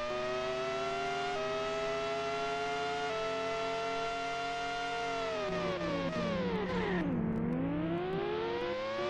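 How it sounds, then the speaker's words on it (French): Racing cars in the PS1 game Monaco Grand Prix Racing Simulation 2 give a steady, loud synthetic engine drone throughout, with the pitch dropping sharply and then climbing again as a car brakes and reaccelerates near the end. "Le son des voitures extérieures est dégueulasse"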